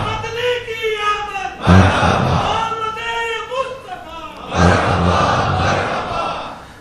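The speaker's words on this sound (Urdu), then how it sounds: "آپ آمد مصطفیٰ کے نعرے بلند کر رہے ہیں" A congregation at a Friday sermon chants religious slogans of welcome for the Prophet in loud unison, two forceful swells of many voices answering a lead voice that calls between them.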